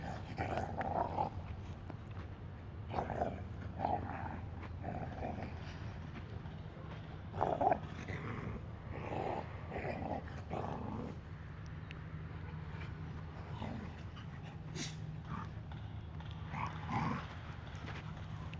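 Dogs growl and snarl in low, uneven bursts, fairly close, with scattered rustling and quiet gaps between outbursts.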